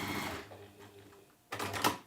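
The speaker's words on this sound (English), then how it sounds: "just going to sew this square onto there so that you can see how it" A sewing machine sews a fabric square onto a schoolhouse tile quilt block in two short bursts of rapid whirring stitches with a quiet pause between them, close and fairly soft.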